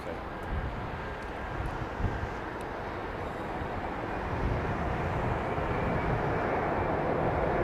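A Delta Airbus A330neo widebody jet at London Heathrow makes a continuous broadband engine rumble that swells slightly as it draws nearer, with brief clicks early on and a voice murmuring faintly underneath.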